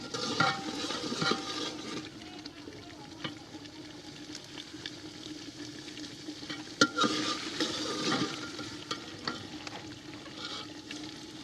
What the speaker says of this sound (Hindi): दस मिनट तक इसे ऑयल में भूनेंगे।